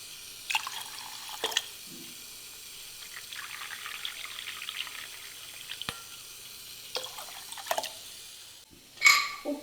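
About two and a half cups of water poured onto rice for cooking in a simple diet meal, a soft, fairly quiet splashing pour in short bursts with gaps between.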